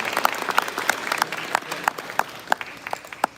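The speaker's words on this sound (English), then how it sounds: "Please give him a huge round of applause" Audience applause welcomes a guest at the Samhita 2022 Great India Festival event, a thick crowd clapping with a few louder, sharper individual claps standing out close by at an irregular rhythm.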